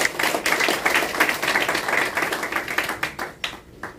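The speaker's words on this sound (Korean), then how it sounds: "우리 자 박수 한번 해줍시다" An audience at a forum on Korea's global strategy in the pandemic era claps together, a steady patter of many hands sustained for a few seconds before thinning out and fading near the end.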